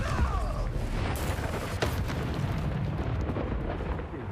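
Confringo fire spells blast in Hogwarts Legacy gameplay, producing dense, continuous explosive rumbling with a sharp burst near the start and another a little later, loud and sustained throughout.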